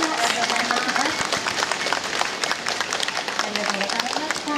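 Audience applause at a traffic safety ceremony in Saitama, a crowd clapping continuously and loudly while voices are heard mixed in.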